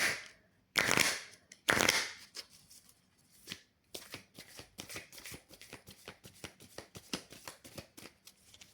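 A deck of cards is shuffled in a series of sharp riffles and quick crisp flutters, with two loud bursts early on followed by a steady run of rapid clicking snaps close to the microphone.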